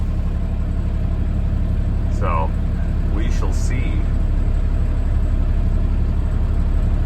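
A car engine running rough on about four cylinders, idling with an uneven, loud low rumble throughout while someone talks briefly over it.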